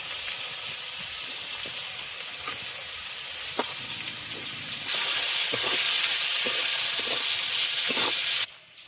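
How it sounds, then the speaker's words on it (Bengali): Carrot frying in a pan for village-style noodles, a steady hissing sizzle with light stirring taps that swells louder halfway through and then cuts off abruptly. "এবার গাজরটা ভেজে নেব।"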